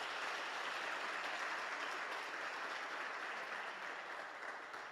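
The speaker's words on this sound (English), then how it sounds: "So give yourself a big round of applause" An audience at a youth event applauding, a steady wash of many hands clapping that holds evenly for several seconds and tapers slightly at the end.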